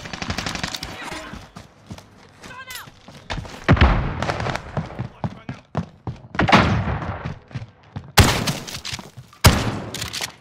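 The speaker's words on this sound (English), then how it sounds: "My claymore just went up in here." Call of Duty: Warzone gunfight with a claymore mine detonating, bursts of rapid gunfire and several heavy thumping blasts, with players talking over the action.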